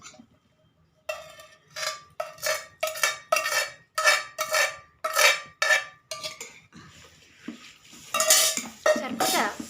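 Oil being poured and stirred into a fenugreek mango pickle, a spoon scraping and clinking against a metal vessel in a quick repeated rhythm of close, sharp strokes, with no one talking.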